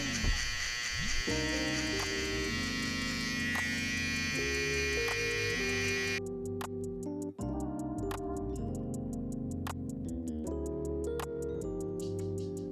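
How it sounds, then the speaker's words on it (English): Electric shaver used on Asian hair during a low burst fade haircut: a steady buzzing hum with rapid ticking clicks, close and continuous, the tone shifting partway through as the blade moves over the hair. "Now I like to come in with the shaver."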